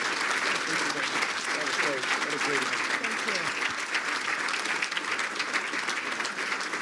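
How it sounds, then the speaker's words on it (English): A lunch audience gives sustained applause for BC Official Opposition Leader Kevin Falcon, with steady, dense clapping filling the room from start to finish and some voices mixed in underneath. "Everyone, a round of applause for Kevin Falcon."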